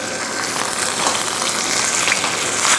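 Meat hits a very hot pan for a stir-fry, giving a steady, close hiss and crackle of sizzling with no pauses and no talk.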